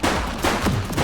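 Rapid gunshots crack out in a dense, loud burst during a chaotic shootout in The Precinct, several shots overlapping in quick succession.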